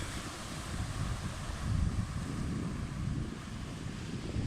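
Sea surf churning and breaking on Climping Beach around old World War II concrete blocks, a steady broad roar with wind buffeting the microphone, loudest in a surge midway.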